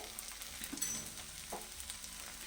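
Semolina paratha frying in a little oil on a pan after being flipped makes a quiet, continuous crackle, with light scraping touches and small spatters scattered through it.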